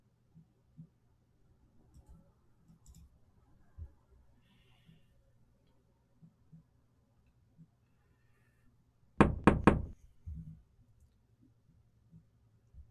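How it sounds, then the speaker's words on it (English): A quick burst of knocking on a house door in the game Police Quest 4, a tight cluster of three or four sharp raps standing out clearly against near silence. "there is no answer to your knocking"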